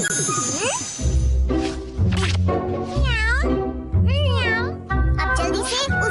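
Cartoon cat meowing from a Hindi-dubbed Doraemon episode, several drawn-out wavering meows in a row, loud and close, mixed with animated character voices and soundtrack noise.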